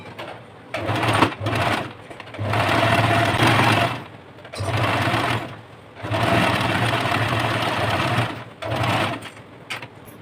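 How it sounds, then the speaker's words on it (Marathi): An electric sewing machine stitches two layers of cloth along the outer edge of a short kurta. It runs in several loud, whirring bursts separated by short pauses. "तर आपण बाहेरच्या साईडला स्टिचिंग करून घेऊया."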